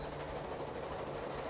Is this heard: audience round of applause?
no